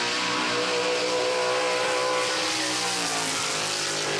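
A 1966 Chevelle Malibu with a 540 cubic inch Dart big-block V8 rumbles steadily at a loud, constant idle-to-cruise level, with no talking over it.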